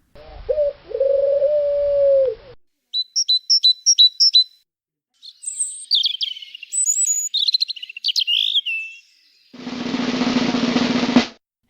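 Three separate bird calls follow one another: a turtle dove's low purring coo, then a great tit's quick high repeated chirps, then a European robin's thin warbling twitter, and finally a broad burst of noise. All are clear and close, with no talking.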